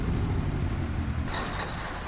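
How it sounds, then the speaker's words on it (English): A high, thin turbo whine rides over a rumbling heavy truck engine in Farming Simulator 19, fading as the broad mechanical roar continues. "The turbo whine, too, is kind of high pitch."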